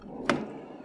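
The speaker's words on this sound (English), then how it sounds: "you have the side loading door." Side loading door on a Maxus eDeliver 3 electric van, a single short sliding thud or latch clunk at moderate level, alone against quiet background.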